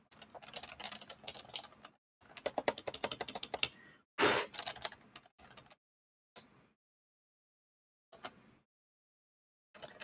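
Rapid clattering keystrokes on a new HHKB keyboard, close and crisp, in bursts of fast typing separated by pauses, with one louder thump midway and a few isolated presses trailing off toward the end.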